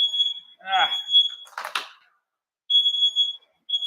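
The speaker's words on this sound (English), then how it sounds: "Stupid piece of crap smoke detector." A shrill smoke alarm beeps in repeated bursts, broken by a short spoken phrase and a rustling bump before the beeping resumes.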